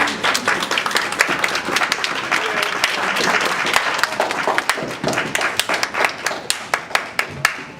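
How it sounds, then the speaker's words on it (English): An audience at a family reunion awards gathering claps for past award recipients: dense, loud applause that thins toward the end into scattered individual claps. "would you just stand up again so we could just give you a round of applause?"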